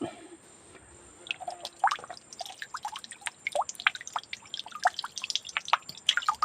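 Spring water drips steadily in quick, irregular plinks, close and crisp, with small splashes overlapping against a quiet background.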